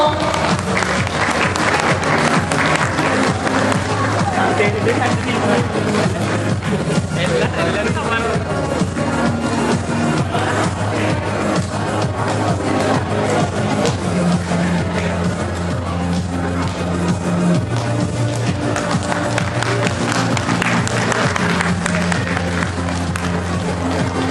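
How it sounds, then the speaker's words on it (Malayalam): A seated audience claps steadily and loudly at a Christmas carol competition prize distribution, the applause sustained throughout with crowd murmur and a voice mixed in. "കൈയടിക്കാൻ മറന്നു പോകുന്നല്ലോ"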